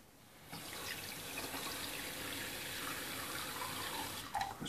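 A kitchen tap runs into a cooking pot being filled for noodles, a steady loud rush of water that starts abruptly and keeps flowing alone for about four seconds before a few clinks at the end.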